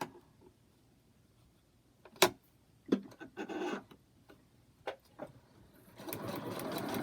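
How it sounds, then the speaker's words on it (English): A sewing machine stitching a foundation paper pieced block, with short bursts of clattering and scratching, then a sustained run of stitching toward the end. "So I'll sew that."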